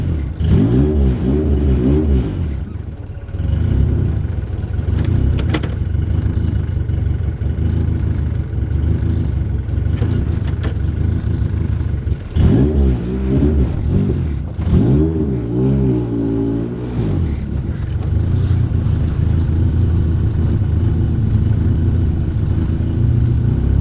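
Acura Integra engine, apparently running on ethanol, revs repeatedly over a steady loud idle, with rising and falling bursts up close and no voices.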